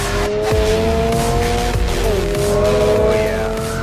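A 2022 Subaru BRZ sports coupe engine revs hard under acceleration, a loud, close, continuous rising engine note with shifting harmonic tones and some tire noise, no talking.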